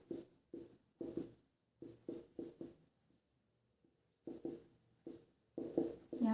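Pen or pencil writing by hand on paper during a Jharkhand exam syllabus lesson, heard as close, dry scratching strokes in short bursts separated by pauses.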